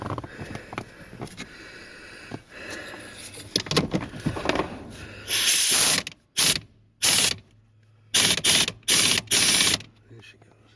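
A socket ratchet turns on the jammed ignition switch of a 2008 Lexus RX350, giving close mechanical clicks followed by several loud, separate bursts of ratcheting with short silent gaps between them.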